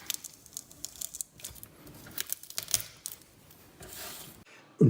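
A garlic clove being lightly crushed gives scattered dry crackles and crunches, close and fairly quiet, ending in a sharp thump.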